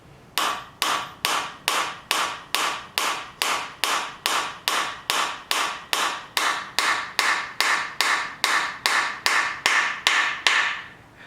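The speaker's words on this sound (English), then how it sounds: "go ahead and take my little steel hammer here" Steady, evenly spaced metallic taps of a small steel hammer seating a part into an engine block, about two per second, repeated over twenty times at close range with no talking.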